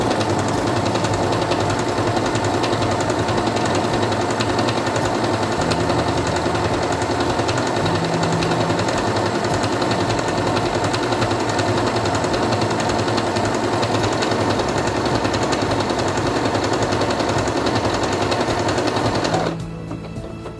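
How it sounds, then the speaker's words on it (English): A Singer Quantum Stylist 9960 sewing machine stitches fabric in one long, steady, loud run of rapid clattering, close up, stopping abruptly near the end. "Place it under the presser foot, lower it, and begin sewing."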